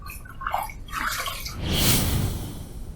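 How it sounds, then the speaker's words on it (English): A safety razor is rinsed under running water partway through a wet shave with Speakeasy shave soap; the splashing and trickling is close and steady and rises to a fuller gush near the end. "Let's rinse."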